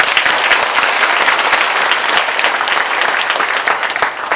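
Guests being introduced at a university staff meeting are welcomed with a big round of applause. The clapping is loud, dense and steady throughout, with no clear speech over it.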